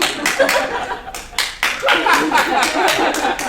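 Applause at a standing ovation, a crowd clapping in uneven bursts with scattered chuckles mixed in, loud and close throughout.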